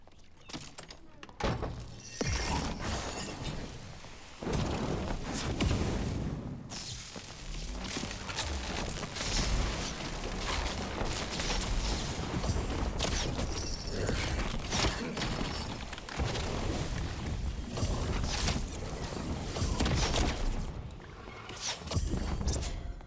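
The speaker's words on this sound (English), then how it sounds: "one of the magic missiles comes back to headshot him there and finishes him off" Magic missile spells from a solo wizard in Dark and Darker strike in the Goblin Caves amid a busy, dense fight mix of thunks, clanks and impacts running steadily at moderate loudness, with no talk.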